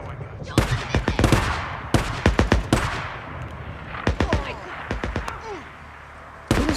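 Rapid gunfire crackles in Days Gone: several bursts of close, sharp shots, some rattling in quick clusters and others spaced out, with a voice heard between them.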